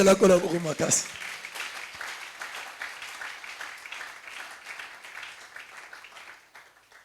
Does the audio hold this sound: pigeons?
no